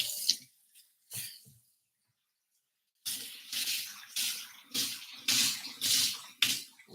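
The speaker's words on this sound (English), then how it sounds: "Rinse it off." Warm tap water runs over a rusty cast iron pan being rinsed after a lye tank, coming in a couple of short splashes, a pause, then repeated gushing bursts of water hitting the metal up close.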